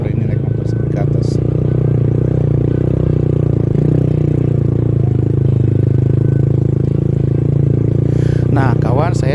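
A motorcycle engine runs steadily and loud throughout while climbing a rough mountain road at Sangiang Bokor, with scraping clatter and a voice rising briefly near the end.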